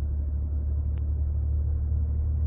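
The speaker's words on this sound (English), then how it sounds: "Light acceleration, we skip second for sure." A 2017-or-later Ford F-150 with the 10R80 ten-speed automatic under light acceleration, heard from inside as a steady low engine rumble with no distinct shift changes.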